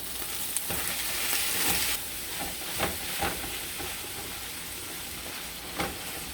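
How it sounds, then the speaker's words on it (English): Ground beef sizzles and fries steadily in a pan, with a few sharp scraping clicks as it is stirred and broken up, close and continuous without talk. "We're going to get our beef stirred up here."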